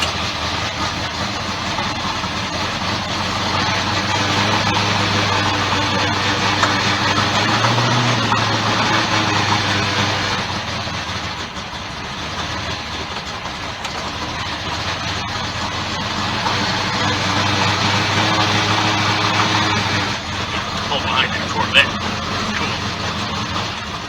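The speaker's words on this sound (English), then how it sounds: "we got flow matcher mufflers on it this time" A car engine fitted with Flowmaster mufflers idles with a deep, steady rumble that swells and settles in long revving waves, loud and close, with people talking over it at times.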